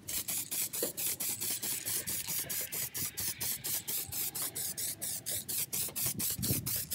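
Primer sprayed onto a propeller from a can in rapid, rhythmic hissing puffs, close and moderately quiet, with no talk.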